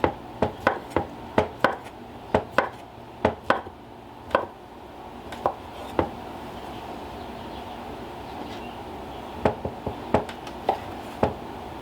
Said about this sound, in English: So I've got my kielbasa all chopped up